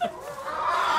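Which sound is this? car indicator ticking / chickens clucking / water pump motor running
chickens clucking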